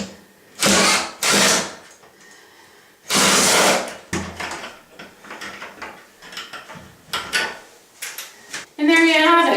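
Door hinge screws are worked loose and a door is shifted, giving bursts of loud scraping and ratcheting close by, separated by short pauses and a few knocks, ending in a sharper metallic buzz.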